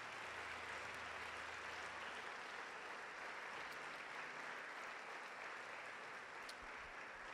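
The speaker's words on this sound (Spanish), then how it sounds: "Dale un aplauso al Señor," A church congregation applauds during a Spanish-language sermon, a faint, steady wash of clapping sustained evenly throughout.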